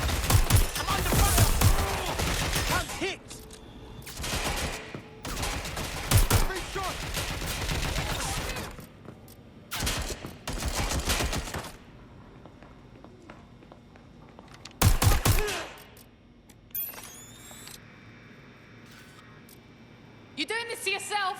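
Bursts of automatic gunfire aimed at the player in Watch Dogs: Legion come in loud, dense volleys separated by quieter stretches, with single cracks and some rattling in between.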